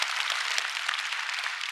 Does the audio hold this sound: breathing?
no